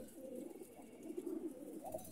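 A Kalla pigeon coos softly in low, rolling phrases, close but faint, with a couple of distinct coo swells and no other sounds.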